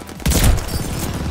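Combat shotgun hip fire in the Call of Duty Vanguard video game, a loud close blast followed by a rapid rattling burst of repeated reports within a second.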